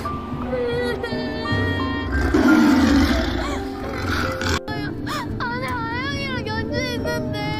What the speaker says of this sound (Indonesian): mendengar suara harimau yang semakin dekat